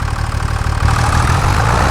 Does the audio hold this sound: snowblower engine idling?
yes